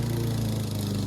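A lawn mower runs without a grass bag while mowing a front yard in hot weather, a steady close engine drone with no pauses.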